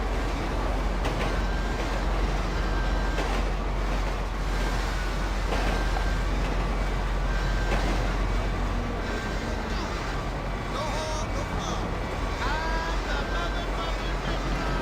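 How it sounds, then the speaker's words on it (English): Steady low rumble and rolling rail noise of a test train easing down as it nears its point of origin in Los Angeles, a continuous moderately loud drone with faint squeals and rattles, with talk intermittently over it. "So I'm going to start slowing the train down."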